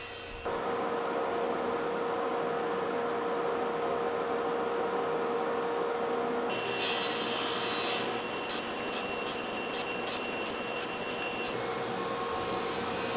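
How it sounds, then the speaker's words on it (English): A table saw with a 1/8 inch blade cuts a slot in a wooden cabinet door panel, producing a steady, loud, continuous whirring roar that shifts slightly in tone partway through and keeps going. "I'm cutting a slot with a 1/8 of an inch blade, and then I'm flipping the piece over and make a second cut"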